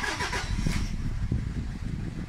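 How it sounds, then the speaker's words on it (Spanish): Toyota Hilux pickup, raised up in a workshop after a repair, cranking and firing into a steady low idle rumble that continues up close. "Entonces vamos a encender el vehículo"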